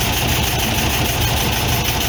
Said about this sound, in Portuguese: O motor tá balançando assim um pouco agora, porque é normal.